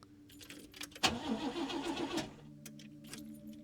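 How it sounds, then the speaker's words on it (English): A car engine in the video game Lorelei and the Laser Eyes cranks with keys jangling, churning for about a second before cutting out without catching, followed by a low hum. "The car won't start."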